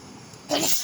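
A single short sneeze bursts out suddenly after a quiet moment, close and fairly loud, with a breathy hiss trailing off.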